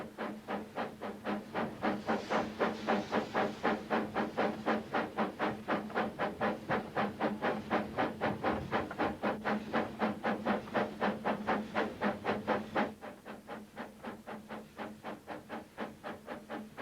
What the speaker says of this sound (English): it clears the train safely into the next section of the line.